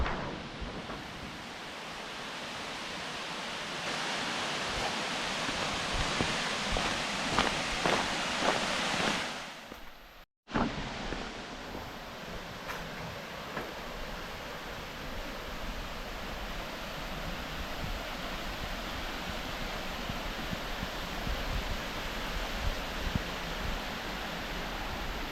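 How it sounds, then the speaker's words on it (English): A waterfall roars at its base on an Australian road trip, a steady, dense wash of falling water with a brief dropout midway, then continuing unbroken and fairly loud. "We're going to get the first look at the waterfall from the bottom."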